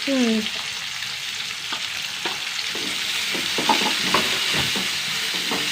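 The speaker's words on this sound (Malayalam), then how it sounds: "നന്നായി വഴറ്റിയല്ലേ? നന്നായി വഴറ്റുക." Onion and green chillies sizzle steadily in hot oil, a dense broadband frying hiss running throughout with scattered scraping stir strokes and clicks toward the end, close and fairly loud, no voices.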